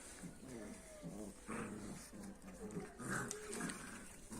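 A black Turkish çomar puppy growls and snarls in low, rumbling bursts, with some whimpering mixed in, fairly close.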